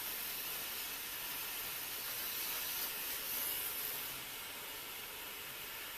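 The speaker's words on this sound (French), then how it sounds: "On a toute la vapeur." A Fabiola M hair steamer puts out steam in a steady, broad hiss that holds constant and fairly loud, with no voices over it.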